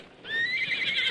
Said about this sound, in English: Well, my horse is plumb tuckered out.